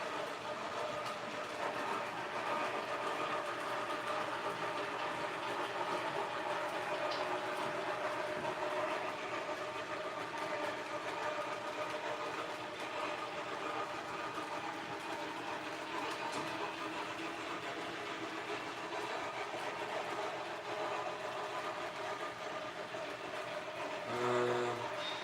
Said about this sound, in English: No better way to spend a Friday morning than some recreational activities and running trains.